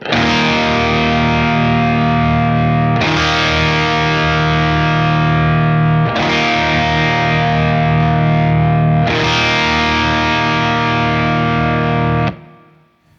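Electric guitar through a Friedman Small Box pedal in low gain mode, mild overdrive, four sustained chords struck about every three seconds, each ringing out fully before the next.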